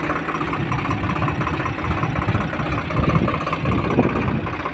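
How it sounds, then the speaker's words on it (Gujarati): A heavy tractor engine pulling a rotavator in a field drones steadily at close range, a constant low rumble with slight rises in power and no speech. "એટલે મોટા ટ્રેક્ટરથી આપણે રોટાવેટર મારીએ છીએ, જોઈ લો"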